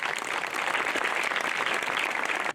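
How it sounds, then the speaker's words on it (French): Crowd at the Saint Erige village festival in Auron applauds warmly, a dense, even wash of many hands clapping for a couple of seconds before cutting off abruptly. "Et vous pouvez encore les applaudir."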